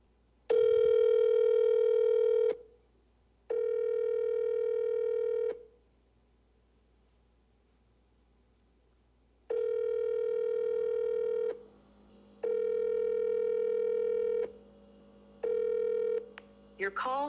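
A phone call placed through Siri rings out as repeated steady ringback tones, about two seconds each, separated by pauses. A voice comes in at the end.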